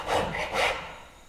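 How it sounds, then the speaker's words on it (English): A hand file or rasp drawn along a piece of wood in two slow strokes, a close, breathy rasping scrape. "move the file or rasp along its length as much as possible"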